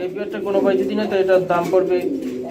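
Pigeons coo in overlapping throaty bursts at a busy pigeon market, loud and close, while someone talks over the birds.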